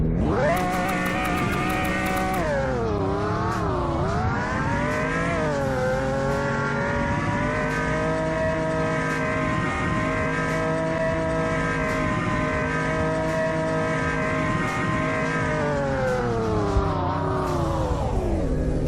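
A car in the Roblox video game doing a 0 to 100 acceleration and braking run: a loud, steady engine drone that rises in pitch through several gear changes, then holds a long high note before dropping, no voices.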